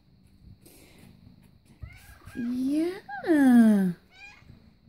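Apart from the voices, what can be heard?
cat meowing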